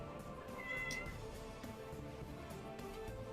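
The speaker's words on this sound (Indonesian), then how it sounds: "ada kucing guys, ada kucing masuk" A cat meows as it comes in, a thin rising call under steady background noise in the middle, fairly faint with no talking.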